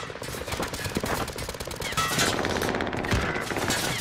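Gunfire in Call of Duty Warzone on Rebirth Island: rapid automatic bursts crackle through the whole moment, growing louder and denser partway through, with no talk over them.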